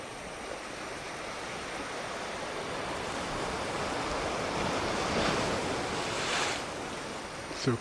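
Ocean surf crashes and washes steadily onto a cold-water beach, a loud continuous roar of breaking waves and spray with swells building toward the end, no voices.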